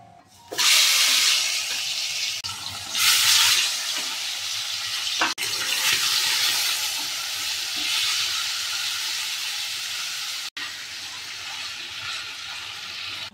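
Tandoori-spiced marinated chicken hits hot oil with a loud, steady sizzle and hiss, rising in bursts early on and holding close and continuous, with a sharp break near the end.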